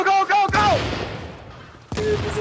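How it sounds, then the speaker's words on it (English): Shotgun blasts in The Division, a couple of heavy booming shots with a lingering tail, mixed with shouted voices and game sounds. "Shotguns are so OP!"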